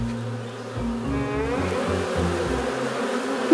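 Bees buzz steadily with a droning hum, while low tones step up and down underneath throughout, in a Garfield cartoon.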